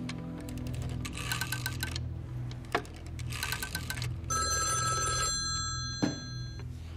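An old-style telephone bell rings in repeated short bursts in a Chinese period spy drama set in 1930s Shanghai, close and clear over a low musical score.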